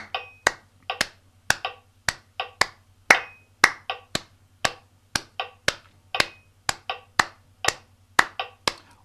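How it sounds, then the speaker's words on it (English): Hands clap a steady rhythm in small groups of beats over a faint metronome hum during a music warm-up, each sharp clap crisp and close with brief gaps between them. "just clapping 6"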